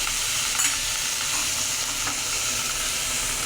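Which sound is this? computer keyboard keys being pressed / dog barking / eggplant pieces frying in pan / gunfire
eggplant pieces frying in pan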